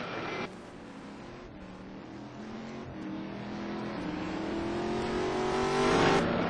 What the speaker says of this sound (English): we heard and we saw one of the RPM Corvettes going past